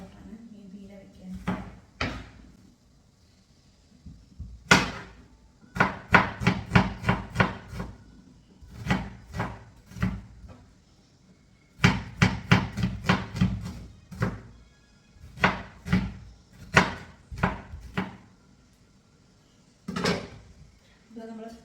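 Onion being chopped on a cutting board, with sharp knife strikes in quick rapid bursts separated by short pauses, close and fairly loud.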